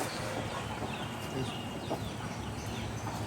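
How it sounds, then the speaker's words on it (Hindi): A rooster in a backyard flock gives a few faint, scattered clucks over a steady hiss of background noise. "ये देखिए हमारा फिरकी मुर्गा"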